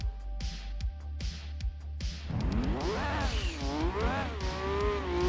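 A racing car engine in Gran Turismo 2 on PS1 revs up and climbs through gears with a rising, whining pitch, loud and close, after a few rhythmic clicks at the start.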